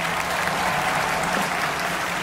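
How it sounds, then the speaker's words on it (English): Graduation audience at the Baltimore City Community College commencement applauding in a steady, dense wash of clapping at a fairly loud level, uninterrupted and without speech, with no distinct cheers standing out. "Please give a robust cheer and round of applause for their"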